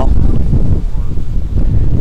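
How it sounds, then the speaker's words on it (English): Strong wind buffets the microphone in heavy low rumbling gusts, loud and close, rising and dipping over a couple of seconds. "Really windy, wet, and a little bit cold."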